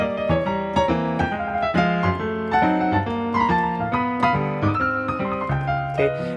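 Jazz piano rendition of a stride tune, built on a chromatic walk-up progression: clear, close piano chords and melody in a steady swinging rhythm, played alone.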